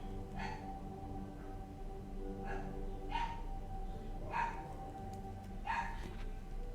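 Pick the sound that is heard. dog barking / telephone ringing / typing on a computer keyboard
dog barking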